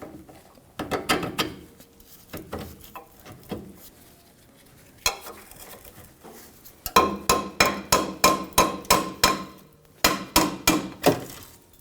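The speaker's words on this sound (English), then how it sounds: "So I'll just take a hammer and I'm going to tap that lower bolt out." A hammer taps a lower shock bolt out of a 1997-2006 Jeep Wrangler with sharp metallic strikes, first a few scattered blows, then rapid rhythmic bursts of six or more hits, loud and close.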